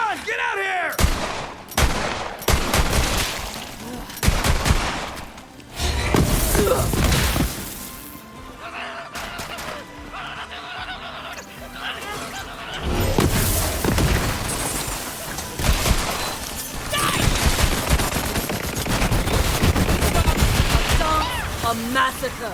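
Full-auto weapons fire in Borderlands 3 in dense, loud volleys, with booms and crashes mixed into the shooting. Game voices and music run underneath for most of the stretch.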